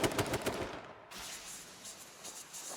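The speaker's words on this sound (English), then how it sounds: "Headshot with an AR." Assault rifle fire in a competitive shooter match: a quick burst of close, rapid shots opens, then gives way to quieter game ambience with faint distant pops.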